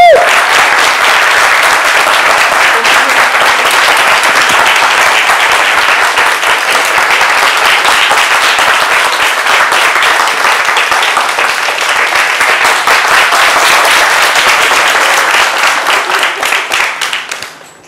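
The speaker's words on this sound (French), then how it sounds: "nous vous accompagnons avec les applaudissements du public" A TV studio audience on a midday show breaks into loud, sustained applause, dense clapping that stays strong for most of its length before thinning and fading out at the end.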